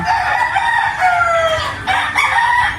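Fighting rooster crowing loudly and close, with overlapping crows from other gamecocks and some clucking in a farm setting where fighting cocks are bought.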